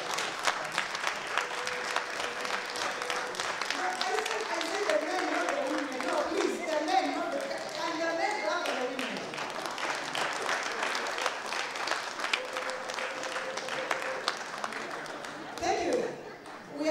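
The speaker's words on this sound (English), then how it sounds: "Can you clap for the women in this house?" A large audience applauds and claps for the women at a keynote gathering, a dense, sustained wash of clapping running throughout with a brief dip near the end, while a speaker's voice carries over it.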